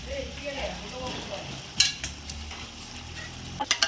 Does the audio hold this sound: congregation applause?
no